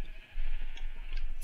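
Sheep bleat in a Minecraft-style survival game, one short wavering bleat standing out clearly over a low background hum, with no speech.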